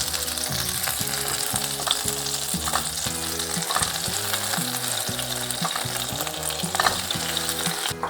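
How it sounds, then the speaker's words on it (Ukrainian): Steady, dense sizzling of cutlets frying in a pan, with occasional crackles and the scrape of a utensil over continuous low background noise. "Поки смажаться котлети"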